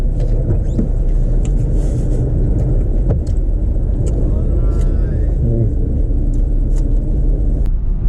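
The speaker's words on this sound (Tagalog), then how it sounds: "Ang haba ng traffic." Steady low rumble of slow, congested road traffic heard from inside a car, with occasional faint clicks and knocks over the drone.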